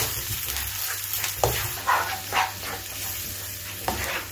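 Eggs sautéing with onions in a hot pan for martabak telur, a steady sizzle broken by a few scraping stirs, close and alone.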